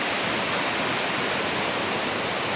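A river flows beside a hiking trail to Lata Makau near Kuala Kubu Bharu, a dense, steady rushing wash heard close and alone with no voices.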